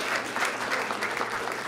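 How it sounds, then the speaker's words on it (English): Applause from a crowd at a public safety forum in Baltimore, steady and close, filling the short moment without any talk. "another round of applause"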